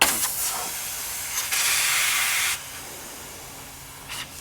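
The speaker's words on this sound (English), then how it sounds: "This will let all the air out of the airbags" Air hissing out of a Lexus GX470's air suspension airbags, a short burst followed by one sustained hiss for about a second, then fading to a low residual whoosh.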